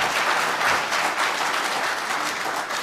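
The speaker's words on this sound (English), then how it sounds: "So big round of applause for Justin" Audience at a spring conference applauding a presenter, a dense, steady wash of clapping from a large crowd that stays loud throughout.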